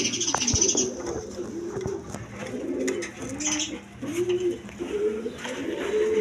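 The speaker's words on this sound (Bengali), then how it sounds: "দর্শকবৃন্দ এখানে এক পেয়ার অরিজিনাল লোটন কবুতর আছে" A pair of muff-footed Lotan pigeons coo close by in repeated soft, rolling phrases, with a few brief chirps mixed in.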